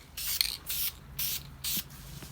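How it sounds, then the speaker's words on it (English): Spray gun applying a light coat of paint to a Jeep Rubicon part, heard as four separate hissing bursts, each about a third of a second long and evenly spaced, close and clear with no talk. "now we're going to spray some paint on it. Just a light coat at first."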